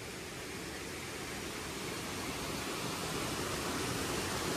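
Water crashing down a Konkan waterfall, a dense, constant roar that stays loud and even the whole time with no voices audible over it.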